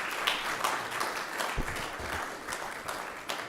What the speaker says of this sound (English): A big and thunderous round of applause for all AMITY Dubai